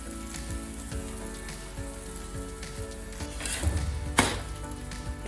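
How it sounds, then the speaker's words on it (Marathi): A cucumber dhirde, a savory pancake, roasts on an oiled pan with a soft, steady sizzle and crackle. A few faint clicks and brief louder spatters break through near the end. "खालच्या बाजूने मस्त असं खरपूस भाजून द्यायचं"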